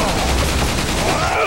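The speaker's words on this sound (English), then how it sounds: "You cannot deal with infinite ammo machine gun." Rapid automatic gunfire from an infinite-ammo machine gun in the video game Resident Evil 4, a dense continuous burst that stays loud throughout with no pauses.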